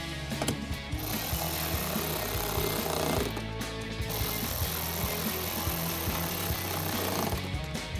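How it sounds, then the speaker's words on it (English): A 7mm socket driver tightens wheel well screws on a 2018-2020 Ford F-150 during a headlight install, giving a rapid buzzing rattle in repeated bursts with short pauses between them. "we'll take a 7mm socket to tighten those down and do the same thing on the other side"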